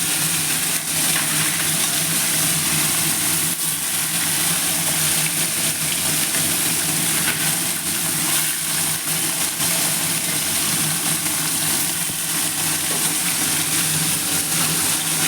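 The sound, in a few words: amodi fish frying in hot oil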